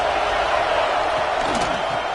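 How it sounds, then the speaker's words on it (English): A stadium crowd at a football game roars in a steady, continuous wall of cheering and noise, loud and sustained throughout with no breaks. "this crowd is turning it up a notch"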